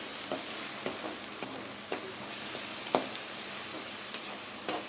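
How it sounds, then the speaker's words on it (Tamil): Elephant yam masala with chilli powder and garam masala being stirred in a pan, giving scattered spoon scrapes and taps over a soft, steady sizzle, close and moderately quiet. "எல்லாத்தையும் நல்லா கலந்து விட்டுக்கலாம்"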